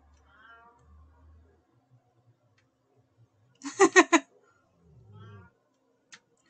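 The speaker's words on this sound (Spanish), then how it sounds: "Pinche gato que empieza a maullar de una manera como si lo estuvieran matando." A cat lets out a loud, drawn-out burst of yowling meows, strained and harsh, between stretches of quiet and a few faint low sounds.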